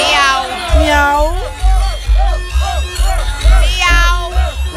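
A person imitates a cat's meow, voicing a series of loud, close, drawn-out mews in quick succession with a short gap between each call.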